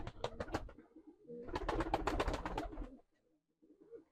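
Pigeons cooing inside a coop, a burst of several throaty coos followed by a longer dense stretch of overlapping calls, close and fairly loud, then fading to quiet with a faint murmur at the end.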